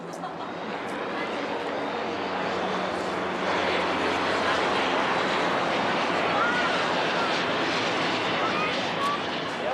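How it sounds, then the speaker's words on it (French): Loud, broad engine roar of military planes and helicopters passing overhead during the 14 July air parade in Paris fills the whole span, swelling slightly midway, with a crowd faintly audible underneath. "les visiteurs sont aux premières loges pour le défilé aérien du 14 juillet"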